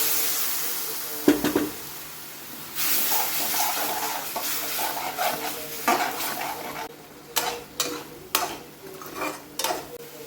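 Water runs into a mortar as masala is rinsed out in a kitchen, a steady rushing stream with clinks and scrapes of utensils on top, close and fairly loud, no talk.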